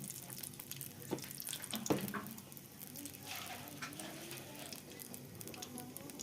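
Nigella seeds sizzle in a little hot oil in a wok, a faint, uneven crackling hiss with a few sharper pops and clinks, close and quiet.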